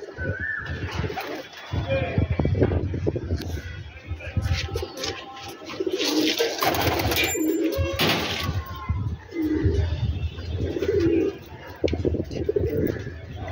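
Pigeons, including newly fledged young, coo in low, soft repeated phrases nearby, while people talk over them and there are occasional clattering noises.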